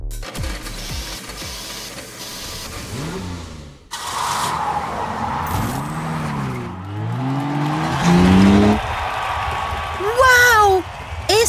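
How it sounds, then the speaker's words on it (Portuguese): A fast toy monster truck with revving, screeching motor and skidding tire-squeal sounds, loud and continuous over music with shifting pitch sweeps, while a voice talks excitedly over it. "Esse é o caminhão monstro mais rápido que eu já vi!"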